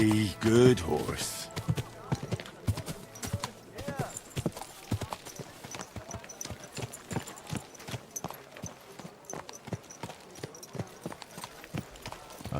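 In the video game Kingdom Come Deliverance 2, steady, rhythmic horse hoofbeats clop at a walking pace throughout. A voice speaks over them at the start.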